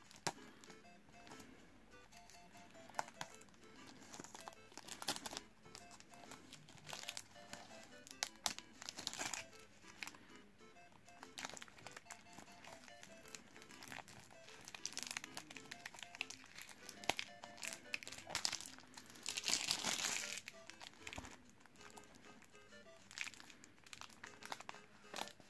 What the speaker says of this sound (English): so now let's peel this plastic off from the game box